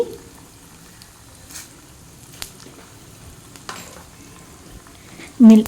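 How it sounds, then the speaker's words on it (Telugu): Cumin seeds and urad dal fry in a little oil with faint, sparse crackles and pops over a quiet background, ending in a brief louder knock. "ఆయిల్ వేసుకొని కొద్దిగా అందులో జీలకర్ర మినప్పప్పు వేసుకోవాలి"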